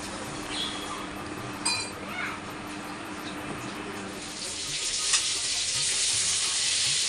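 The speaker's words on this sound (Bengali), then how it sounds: "মাছ ভাজা আর হচ্ছে করলা ভাজা" Fish and bitter gourd frying together in a home kitchen, a continuous hiss of sizzling oil that swells louder toward the end, with scattered utensil clinks and no talk.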